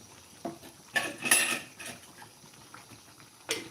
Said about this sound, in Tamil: இந்த கரண்டியால் நாலு கரண்டி ஊத்துறேன்